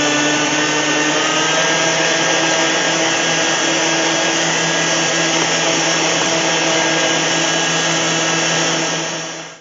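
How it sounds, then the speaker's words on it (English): An electric mixer runs loud and steady, creaming shortening, egg, molasses and sugar for old-fashioned ginger snaps, its motor whirring close and continuous before cutting off at the end. "Mare, we want to blend all of this together"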